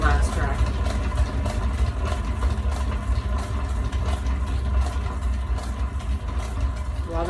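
A spinner turns a canister lid with a steady, low mechanical hum and faint regular pulsing, running without a break throughout.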